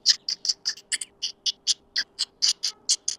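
Someone imitates a sparrow with a quick, steady string of high, thin chirps, fairly soft and close, repeating about five times a second.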